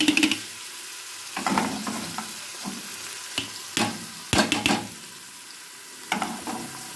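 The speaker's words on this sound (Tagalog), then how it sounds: "Para iluto natin ang sibuyas at garlic." Onion and garlic sautéing in olive oil, a low steady sizzle with repeated stirring scrapes and clatters of a utensil in the pan, fairly close, no talking.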